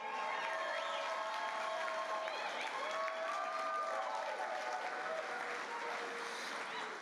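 An awards-ceremony audience applauds steadily for several seconds, dense clapping with a few cheers rising and fading.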